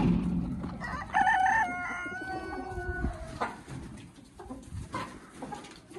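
A rooster crows loudly and close by in a coop yard, its drawn-out call rising over clucking chickens and general farmyard bustle, with scattered shuffling noises following the crow.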